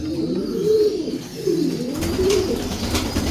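A pigeon coos in a steady, soft, repeated rhythm close by, with no one talking.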